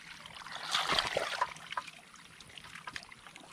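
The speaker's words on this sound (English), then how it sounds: "there's a lot of water can easily flow through this aftercooler." Water trickles and gurgles through the removed aftercooler of a Caterpillar 3412 engine, a soft splashing flow with no back pressure that swells briefly then settles to a faint steady dribble.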